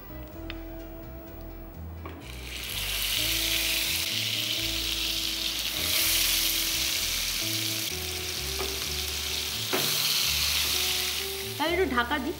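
Food sizzles loudly in ghee in a kadai, a dense frying hiss that swells after a quieter start and carries on steadily, with occasional utensil clinks and a faint background hum.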